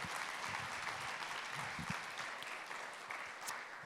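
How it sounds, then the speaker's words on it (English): An audience at a Houston media purchasing conference applauds the planning committee, a steady wash of many hands clapping at moderate distance, continuous and even throughout with no talking. "maybe you might give them a round of applause"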